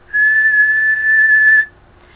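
A person whistles one steady, clear tone that is held for about a second and a half and then stops. The sound is close and loud, with no talking.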